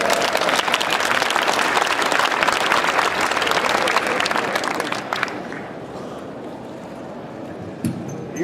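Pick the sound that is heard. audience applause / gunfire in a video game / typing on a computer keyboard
audience applause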